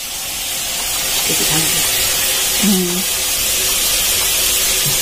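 Khichuri bubbling in a pot on a cold day, a broad steady hiss like steam and simmering that swells slightly and holds, with brief low voice fragments underneath.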